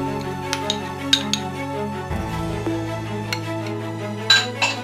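Ground onion paste and ginger paste mixed together in a bowl, with soft clinks and taps of a utensil against the dish over a low steady background hum, alone without talk.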